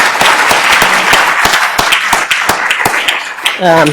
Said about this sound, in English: One more round of applause for just everyone.